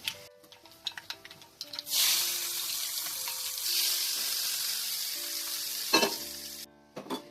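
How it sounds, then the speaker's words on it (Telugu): A spice tempering crackles and pops, then a sudden loud hiss of sizzling oil surges and holds steady before dying away, with tapping sounds around it, while making peanut tomato chutney. "ఇది రెండిట్లో తాలింపు వేసేస్తాను"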